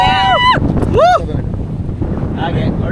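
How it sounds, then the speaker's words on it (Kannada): Strong wind at a windmill hilltop viewpoint at Ramakkalmedu, a steady low roar buffeting the microphone, with a voice speaking over it at the start. "ಇಲ್ಲಿ ಡ್ರೋನ್ ಸಾಧ್ಯ ಇಲ್ಲ, ಗಾಳಿ ಜಾಸ್ತಿ ಉಂಟು."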